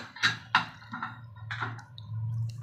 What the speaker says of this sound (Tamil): இந்த தண்ணியில் நல்லா கழுவி எடுத்துக்கலாம்